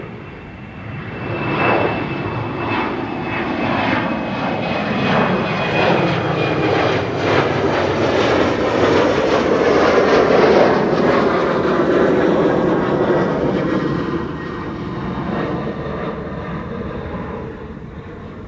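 An airliner takes off from Schiphol's Kaagbaan runway 24, its engines building to a loud, close roar with a sweeping whine, then slowly fading as it climbs away.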